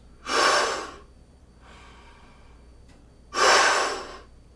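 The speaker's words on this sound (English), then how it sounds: "put your hand in front of your mouth and breathe in" Two loud, airy inhalations through the mouth, close up, separated by a softer exhale, with no talking.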